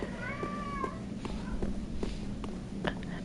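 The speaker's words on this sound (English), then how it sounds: "Now that just encourages her to meow louder." A cat meows a few times in short rising calls, close by, with light rustling and faint movement sounds around it.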